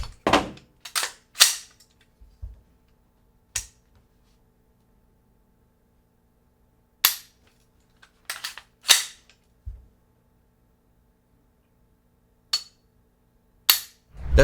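A SIG MPX PCC carbine fires sharp, loud shots, some in quick clusters of two or three, others spaced by several seconds of silence, each crack short and close.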